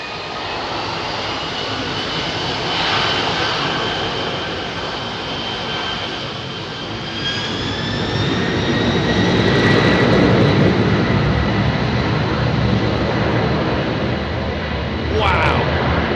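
Heavy jets, including Airbus A380s, taking off at Heathrow Airport, a sustained loud engine roar that swells as aircraft pass, with high turbine whine and faint voices in the background.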